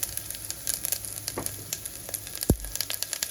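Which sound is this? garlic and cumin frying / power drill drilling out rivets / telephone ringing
garlic and cumin frying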